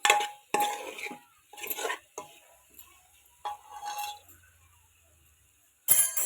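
Potato curry with dry coconut stirred in a pan, a series of scraping, clinking strokes in uneven rhythm, close and fairly loud.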